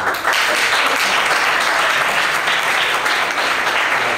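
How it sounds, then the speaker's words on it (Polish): Loud, even applause from a crowd at a police-class tournament, continuous dense clapping for the fans lasting about four seconds. "To wielkie oklaski dla kibiców"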